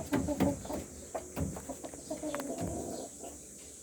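Clucking from native chickens on a small farm where hens are laying, a series of close, uneven clucks and soft calls with a faint steady hiss behind.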